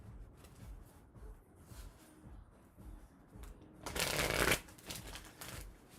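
Tarot cards being shuffled during a reading, soft scattered card handling that swells into one loud, close riffling burst lasting about half a second before settling back to light shuffling, no speech.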